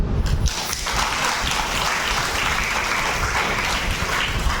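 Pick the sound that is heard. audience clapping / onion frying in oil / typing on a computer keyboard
audience clapping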